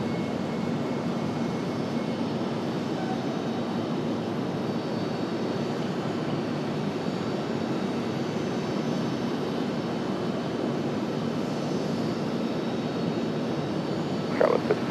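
An airliner taking off from runway 23 left at Raleigh-Durham, a steady, distant jet engine roar holding evenly throughout, with a brief sharp sound near the end.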